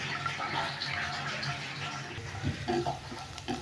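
Cashews and almonds with green cardamom fry in a pan, giving a steady, dense sizzling hiss with a few soft clinks and stirs toward the end.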